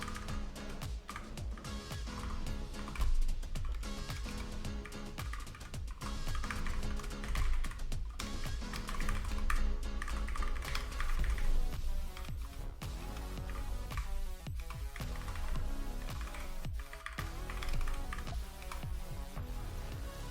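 Computer keyboard typed on by someone with cold fingers, giving a steady run of soft clicks and taps over twenty seconds at moderate level, with a continuous hum in the background.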